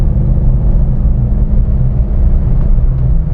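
A Jeep JK fitted with an LS engine accelerates in fourth gear, giving a loud, steady low engine rumble heard from inside the cabin with no talking.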